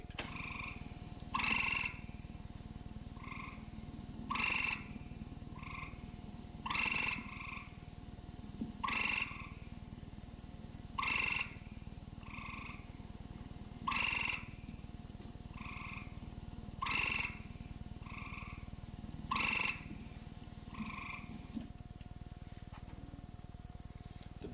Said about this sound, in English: This is the call of Hyla versicolor,